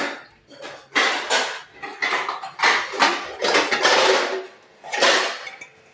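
Small toy dishes, a bowl and a mug are handled and stacked nearby, producing a series of close, bright clinks and clatters in irregular bursts with short pauses between, alone without talk.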